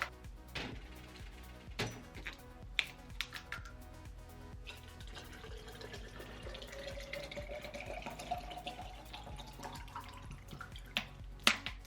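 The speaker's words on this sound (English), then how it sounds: "Got me a little water bottle, fill this bad boy up." Water bottle being filled at a tap while getting ready for the gym, quiet close splashing and trickling with a rising pitch as the bottle fills, plus a few clicks and knocks.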